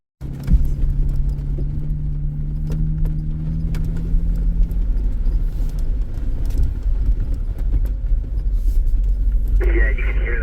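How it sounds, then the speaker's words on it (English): A Jeep crawls along a rough off-road trail on Drummond Island's Hallfrish Walker Trail, a steady low engine rumble carrying a loose, clattering rattle that knocks irregularly throughout, up close and continuous. "you can hear that rattle really bad"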